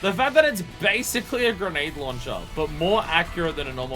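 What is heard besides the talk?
None of the usual background noises is heard.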